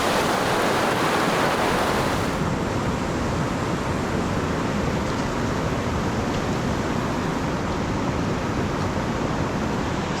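A swift backcountry creek rushes steadily as a dense, roaring wash of water close by, continuous and loud throughout with no pauses and no voices.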